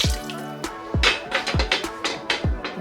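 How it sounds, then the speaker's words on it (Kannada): Water poured into a cooking pot holding lentils and drumstick pieces, with repeated splashy drips and bursts in an uneven rhythm, close and fairly clear, no talking. "ಇದೆಲ್ಲ ಮುಳುಗೋ ಅಷ್ಟು ನೀರು ಹಾಕೊಂಡ್ರೆ ಸಾಕು"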